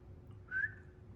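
A person whistling a single short rising note, clear and thin, brief and moderately quiet over a faint steady hum.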